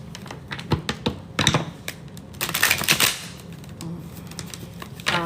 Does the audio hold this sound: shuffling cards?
yes